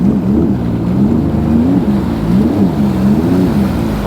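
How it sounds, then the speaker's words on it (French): A Sea-Doo GTI 170 jet ski engine on its first start during break-in, revved in eco mode with a low droning hum that rises and falls in several gentle throttle swells, loud and close with some wind noise. "On va envoyer les premiers coups de gaz, ça vous permettra d'entendre le son et la sonorité du moteur"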